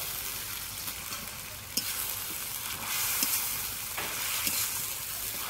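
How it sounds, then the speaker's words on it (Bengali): Spices and chopped tomato sauté in a pan for a chitol fish curry, giving a continuous sizzling hiss with occasional scraping stirs and small pops, steady and close. "এবার ভালো করে কষে নেব।"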